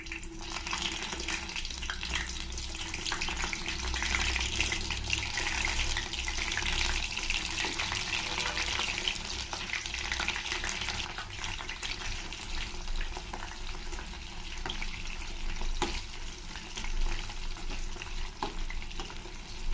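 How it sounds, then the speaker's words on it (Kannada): Quartered brinjals deep frying in hot oil, a continuous close bubbling sizzle that holds steady for about twenty seconds, with occasional faint clinks and no voices. "ನಾಲ್ಕು ಭಾಗವಾಗಿ ಸೀಳಿರೋವಂಥ ಈ ಬದನೆಕಾಯಿಗಳನ್ನ ಸ್ವಲ್ಪ ಎಣ್ಣೆಯಲ್ಲಿ ಡೀಪ್ ಫ್ರೈ ಮಾಡ್ಕೊಳ್ತೀನಿ"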